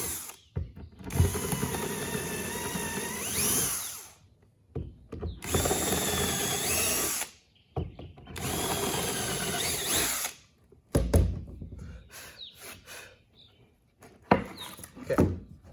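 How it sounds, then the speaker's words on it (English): A power drill pre-drills shallow holes in a wooden board for a hand saw guide, running in four close, loud bursts of a few seconds each, separated by pauses and followed by a few short clicks. "pre-drill holes in that board just a little bit"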